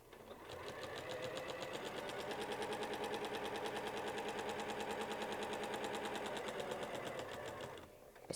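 A sewing machine stitches a quilt in one continuous run of rapid, even stitching that ramps up, holds steady for several seconds and slows to a stop, close and clear with no talking.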